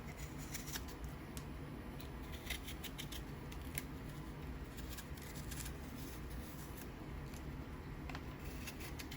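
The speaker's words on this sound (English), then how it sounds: "Take your knife and just peel off this brown layer here." A knife scrapes and peels the brown outer skin from a coconut, giving a steady, close, continuous rasping texture with no speech.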